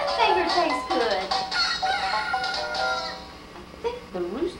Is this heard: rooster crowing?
yes